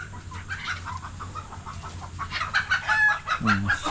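Large chickens on a farm cluck and call nearby, a busy scatter of loud clucks building toward the end, with faint background noise.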